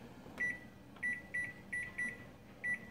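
A kitchen timer gives a run of short, bright electronic beeps at uneven intervals as buttons are pressed, close and clear over a low steady room hum, with no talking.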